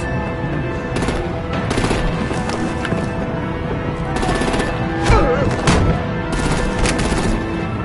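Loud artillery and gunfire in the video game Batman The Enemy Within, with rapid bursts of shots and heavy impacts coming in repeated clusters over a dense battle backdrop.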